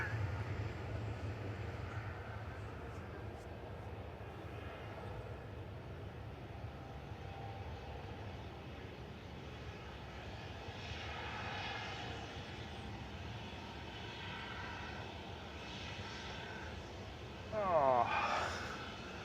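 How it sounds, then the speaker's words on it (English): A distant Airbus A380 jet engine spools up at Manchester Airport with a low, steady roar, faint and continuous, with a brief louder burst near the end. "So A380 is just starting its engines."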